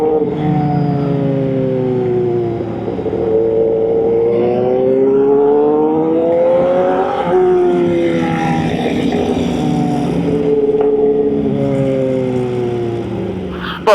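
A Honda Fireblade superbike ridden with a group of motorcycles hums loudly and steadily, its engine pitch gliding up and down with throttle changes over continuous wind rush, with no talk.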